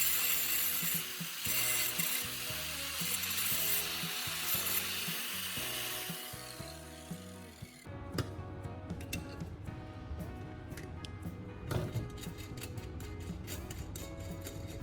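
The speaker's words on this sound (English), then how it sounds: "I repeat the sharpening process on both sides of the homemade grinding disc" A homemade steel grinding disc for an angle grinder being sharpened on both sides, giving harsh, repeated metallic scraping and grinding with a ratcheting edge, loud and close throughout, under a layer of steady tonal sound.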